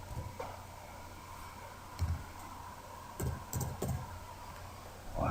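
Computer keyboard typed quietly in a few short bursts of soft clicks separated by pauses, faint and close in a quiet room.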